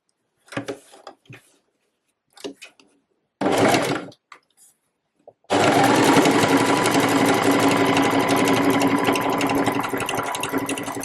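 After a few scattered clicks and handling noises, a sewing machine stitching a bulky reversible waistcoat starts up and runs continuously, a close, steady whirring hum with a fast rhythmic needle patter that lasts to the end.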